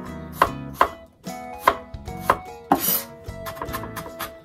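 A knife chops garlic on a cutting board with about eight sharp, evenly spaced cuts, followed by a quicker run of lighter taps. The sound is close and dry, with no voices.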